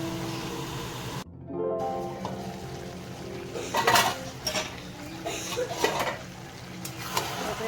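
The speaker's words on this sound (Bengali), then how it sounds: "ভালো করে কিছুক্ষণ ধরে কষিয়ে নেব চিকেনটাকে" Chicken stirred and sautéed in a pot for a curry with peas: a spoon clanks and scrapes repeatedly against the metal pan, and a bright, wet sizzle rises under the stirring, close and fairly loud.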